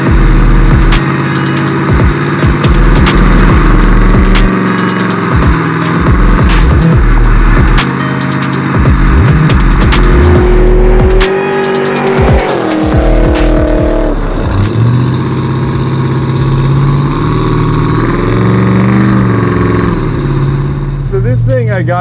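A supercharged 750whp Chevy Blazer cruising on the road, its engine droning and shifting pitch as it gently accelerates and eases off, heard from inside with people talking over it.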